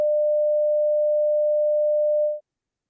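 Steady pure Morse code CW sidetone at around 600 hertz, one continuous clean beep lasting about two and a half seconds before cutting off into silence.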